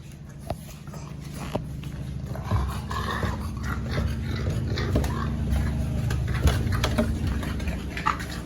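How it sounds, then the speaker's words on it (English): Six-week-old French bulldog puppies growl low and rumbly while eating, a busy close mix of growls, snuffles and small whimpers over a steady background of chewing and shuffling. "So let's go and feed the puppies"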